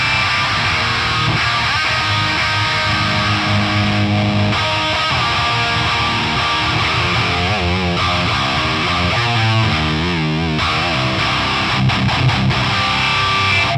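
An electric guitar runs through the Nembrini Audio Coreblade amp plugin with the filter on and the tight and harsh knobs raised, giving heavy distorted riffs and sustained chords that play continuously without talk.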